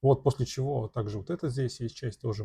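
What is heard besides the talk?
None of the usual background noises is heard.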